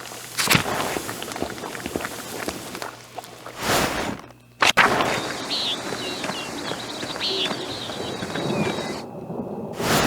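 Thunder rumbles and cracks in the game Pentiment, with steady rain and a sharp close thunderclap midway, followed by continuing storm noise and faint footsteps.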